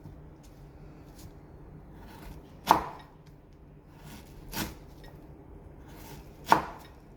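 Three separate knife chops land on jackfruit as it is cut up at home on a board, each a faint thud, spaced a couple of seconds apart over quiet background.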